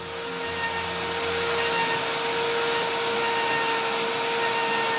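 A homemade lathe fitted with routers shapes a banjo neck, a steady loud whining roar with high tonal hum that runs unbroken and close throughout.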